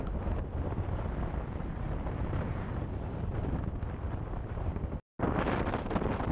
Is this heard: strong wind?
yes